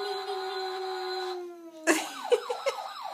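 An ambulance siren wails with a steady tone, then shifts into a rapid rising-and-falling yelp pattern after a brief drop, loud and close with no speech.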